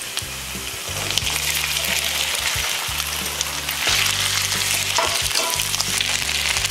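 Sago frying in a pan for upma with onion, a loud continuous sizzle with bursts of stirring and spoon scrapes against the pan, close and without talk.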